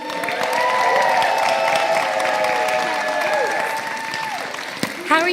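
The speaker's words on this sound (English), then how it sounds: "I want you to give them a round of applause" A crowd at a drag queen story hour applauds the storytellers with steady, moderately loud clapping under cheering and voices. It fades slightly toward the end.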